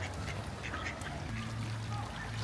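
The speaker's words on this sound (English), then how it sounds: "Look at that, one domestic duck." A single domestic duck at a pond gives a few soft, low quacks at close range over quiet outdoor background.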